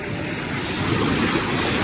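Sea waves wash onto a beach in a steady, loud roar of surf, blended with gusting wind buffeting the microphone.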